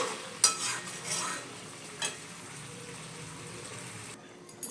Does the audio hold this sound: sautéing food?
yes